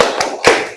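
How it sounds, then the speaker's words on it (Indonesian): Two crisp hand claps, spaced about a quarter second apart, ring out from a junior high school class doing a spirit clap, close and loud with nothing else heard. "Tepuk semangat."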